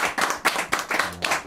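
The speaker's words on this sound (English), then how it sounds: "Can we have another round of applause for Ben" An audience claps for a teacher named Ben after a live acoustic performance, a short run of uneven, fairly close handclaps from a small group, with no talk over it.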